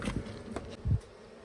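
Honeybees at a hive during winter, with food stores running low, give short, faint buzzing bursts that come and go over a quiet background.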